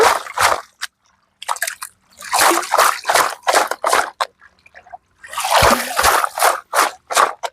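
Water splashing and trickling in bursts as things are rinsed in a rooftop garden, close and fairly loud, with short pauses between pours.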